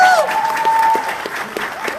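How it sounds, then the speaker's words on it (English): Brief burst of crowd applause at a sales director recognition event, mixed with a lingering tone and some background voices, dense and moderately loud. "Can we applaud that?"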